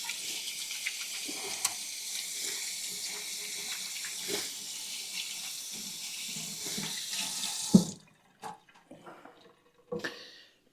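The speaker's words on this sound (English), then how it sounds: "Let me rinse my hands off here." Hands rinsed under a running kitchen tap, a steady close rush of water splashing for about eight seconds before it shuts off, followed by a few light clatters.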